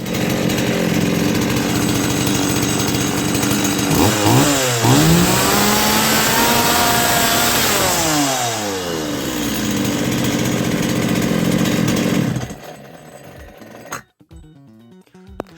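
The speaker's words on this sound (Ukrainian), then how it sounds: "штильок працює справно" A Stihl 180 chainsaw runs loud and close after carburetor repair, holding a steady idle with several rising throttle revs in the middle before it cuts out near the end.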